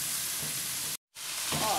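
Beef searing in a hot pan with oil, a loud steady sizzle that cuts out abruptly for a moment, then resumes with stirring scrapes over the frying.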